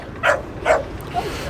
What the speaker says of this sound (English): There's a little doggy.